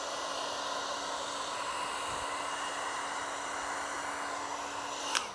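A heat gun blows a steady, even hiss of hot air onto vinyl wrap on a Tesla side mirror, running continuously and close with no talk, ending in a brief sharper click.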